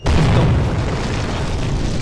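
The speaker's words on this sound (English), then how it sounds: "Self exploding mechanism?" A loud explosion from an anime episode, a fantasy series, bursts in with a sharp boom and then rumbles into a dense, roaring decay that fills the whole moment.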